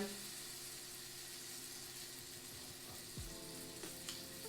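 Parmesan-coated chicken frying in a pan, a steady soft sizzle running throughout, faint and continuous with a few small clinks near the end.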